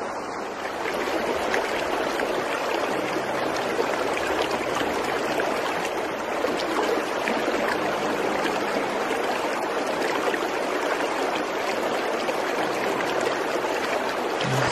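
A snowy stream in Greece near a stone bridge rushes around frozen rocks with dripping icicles, a steady, close, full-bodied water roar that holds unbroken throughout.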